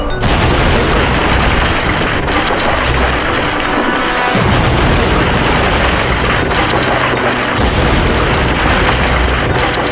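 A staged explosion blows up an airplane for engineering damage tests, a loud, sustained roaring blast with deep rumbling booms and crackling debris filling the whole stretch.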